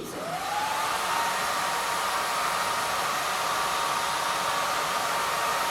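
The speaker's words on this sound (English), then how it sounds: "this is a fairly hot hair dryer" Small, hot single-setting hair dryer blowing on a candle, a steady loud rushing whoosh with a faint motor whine, starting as it spins up and then continuing unbroken at close range.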